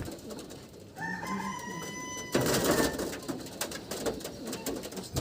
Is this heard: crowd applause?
no